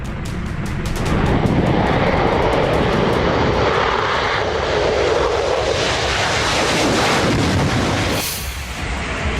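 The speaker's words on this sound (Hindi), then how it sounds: "F-16 लड़ाकू विमान ने उड़ान भरी।" A loud F-16 fighter jet taking off, its engine roar swelling and holding as a dense, continuous blast before easing slightly at the end; no talking.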